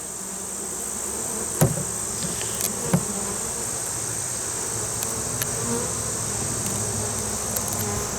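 Honey bees in a hive drone in a dense, steady buzz close by, with a few faint knocks and clicks scattered through it.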